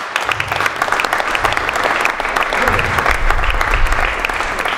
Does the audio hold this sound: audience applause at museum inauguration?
yes